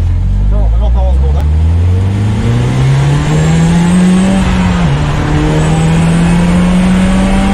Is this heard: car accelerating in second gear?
yes